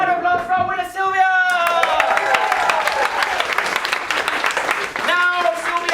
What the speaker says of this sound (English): Round of applause for winner Sylvia!